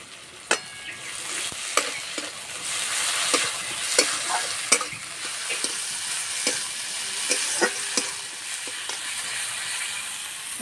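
Ginger garlic paste frying with browned onion and tomato in a pan, a steady loud sizzle broken by sharp clicks and scrapes of stirring at irregular intervals, with no voices.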